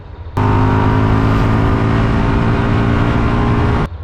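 An Indian FTR-R Carbon motorcycle engine revs in sport mode, a loud, close, sustained roar that cuts in sharply, holds for about three seconds and drops off abruptly.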